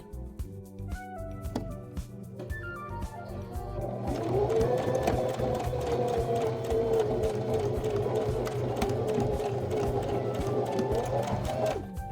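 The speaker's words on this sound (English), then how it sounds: "I'm folding over the fabric to sew it for the armholes" A sewing machine runs steadily as it stitches the armholes of a fabric dress, its fast rhythmic whirring rising in speed and holding an even, continuous hum for several seconds, with no talking.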